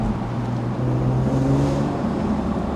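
A BMW E46 M3 engine roars inside a tunnel in second gear, a loud, sustained drone with its echo rising and holding close by throughout.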